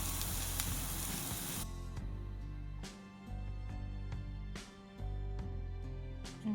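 A spinach omelette sizzles in a pan. A loud, hissing fry opens the sound, then softens to a quieter sizzle with intermittent bursts over a tonal background.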